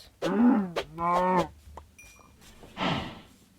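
Two loud, close cow moos from a video game in quick succession, followed by a softer breathy exhale; no talking.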